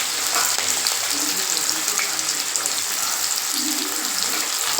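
Steady crackling sizzle of chopped onions and curry leaves frying in hot oil, continuous and fairly close, with no talking.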